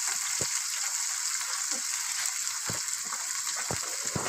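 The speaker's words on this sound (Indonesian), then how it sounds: "Digoreng sampai mateng." Chicken pieces for semur frying steadily in hot oil in a pan, a continuous close crackling sizzle with occasional soft pops, with no talking.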